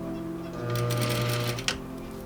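A sewing machine runs for about a second, stitching a wedding dress near the corset boning during an alteration, with a steady mid-level whir that stops, followed by a brief click.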